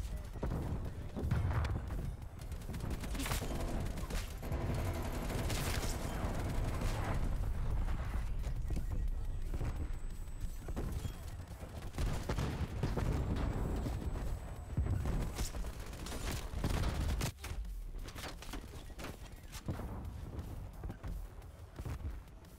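AK-47 gunfire in Call of Duty: Black Ops Cold War multiplayer, repeated bursts of loud rifle shots mixed with booming explosions and game effects, with a player talking over parts of the action.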